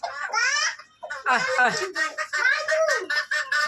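Farm chickens gathered at feeding time, giving a close run of loud, harmonic squawks and clucks in uneven bursts, with brief gaps between calls.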